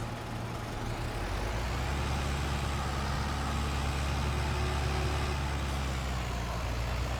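A tractor engine in a farming video game drones steadily, a loud, continuous low rumble that holds an even pitch from start to finish with no talking.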